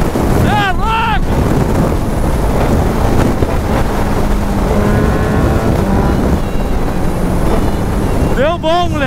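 A motorcycle fitted with nitro injection accelerates hard. Rising engine revs sweep upward at the start and again at the end over constant wind rush, and excited voices talk and shout throughout.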